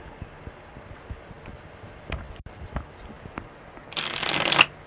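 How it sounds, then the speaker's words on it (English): Tarot cards shuffled by hand at a table, a soft riffling burst near the end after a few light taps and rustles, fairly close and alone without talk. "that was a lot better shuffle"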